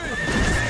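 A horse gives a loud, close, sustained neigh with a steady pitched whinny, over faint clip-clop in an animated Hindi film scene.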